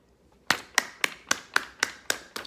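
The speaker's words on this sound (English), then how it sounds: "I got to give you a hand clap" Eight sharp hand claps in a steady, slightly quickening rhythm, each crisp and close with a short decay, after a brief quiet start and with no talking.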